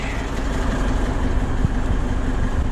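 A DAF LF truck diesel engine idles after a completed regeneration, with a blocked EGR valve, a steady loud low rumble with a constant drone, close and unbroken, no talking.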